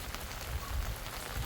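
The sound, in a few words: light drizzling rain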